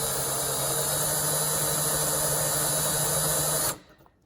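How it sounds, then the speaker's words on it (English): A power drill countersinking acrylic whirs steadily at close range for several seconds, then cuts off abruptly, leaving near silence. "drill down, gently push down on it"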